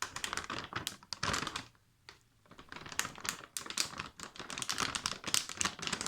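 Plastic seal of a ration pack being peeled open, quiet rapid crinkling and crackling bursts with a brief pause, close and unaccompanied by talk.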